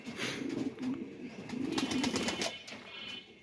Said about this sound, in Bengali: কবুতর এখানে আছে উপরে